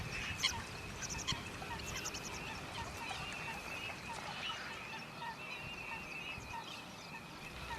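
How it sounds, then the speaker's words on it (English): Eurasian teal wintering in a wetland, a dense flock whose constant high calls and chatter blend into a busy, continuous wash of bird sound, with no talk. "very common winter visitor to our wetlands is the Eurasian teal"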